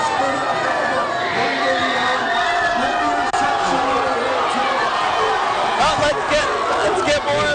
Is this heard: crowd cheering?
yes